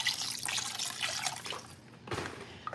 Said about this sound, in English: So we're going to fill that with some water